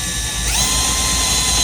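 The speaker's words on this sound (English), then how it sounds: "I'm going to start my drill slow" Power drill spun up slowly to bore a pilot hole for a squealer installation, its whine rising in pitch as the motor speeds up, loud and close with no talking.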